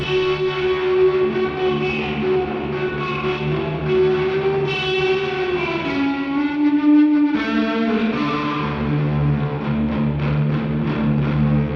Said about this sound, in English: So you can hear this very quick decay and delay changes.